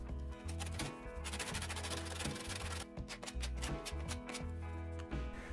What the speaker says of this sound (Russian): Также немного подравниваем наждачной бумагой.